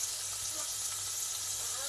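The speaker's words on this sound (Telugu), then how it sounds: "కూర కూడా ఉల్లిపాయలు మగ్గుతున్నాయి" Chopped onions sauté in a pan for an okra curry, giving a soft, continuous sizzle and hiss at low volume with a faint low hum underneath.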